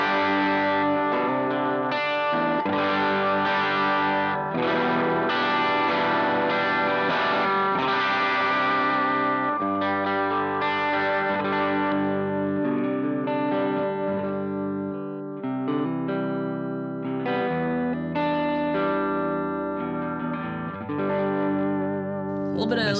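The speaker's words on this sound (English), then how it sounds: "let's hear just your amp by itself" Electric guitar played through an amp alone with a slightly driven clean tone, sustained strummed chords and picked notes ringing continuously with light grit and some effects shimmer, close and steady.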